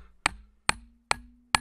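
Four sharp metallic strikes of a small hammer on a steel wedge set in a big rock, evenly spaced about half a second apart, each ringing briefly with a faint hum between them.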